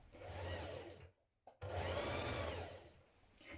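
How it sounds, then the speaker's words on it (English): A sewing machine runs a 1 cm seam along a fabric edge in two steady, close-up runs of whirring, split by a brief stop. "We're going to stitch down this edge here with a 1 centimetre seam."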